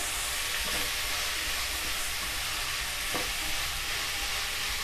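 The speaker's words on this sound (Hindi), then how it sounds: "बारीक कटा हुआ गोभी डाल देंगे और अच्छे से मिला लेंगे।" Finely chopped carrots and cabbage sizzle steadily while being stirred in a pan for pav bhaji, a loud continuous frying hiss with occasional scrapes of the spoon, no talking.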